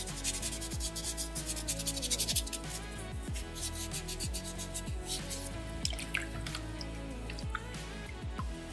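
Sandpaper rubs steadily back and forth across a small soapstone carving at close range, a continuous gritty scraping with repeated strokes and no voices.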